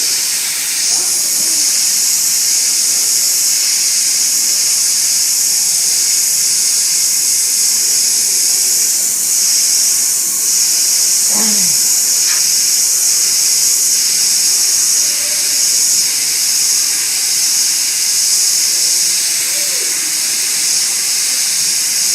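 Steady airbrush spray, a continuous even hiss held close and loud for the whole stretch, with a brief faint squeak near the middle.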